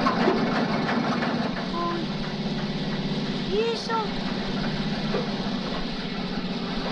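An engine idles with a steady, rough putter and a sputtering exhaust that runs the whole time at moderate loudness. A brief voice breaks in partway through.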